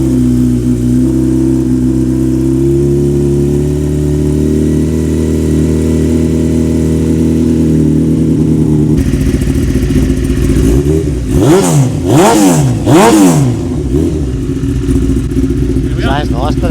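A custom Honda Fireblade motorcycle, started old-school with fuel on and a little choke, idles loudly and evenly, then breaks into a series of sharp, rising revs close by, with people talking over it.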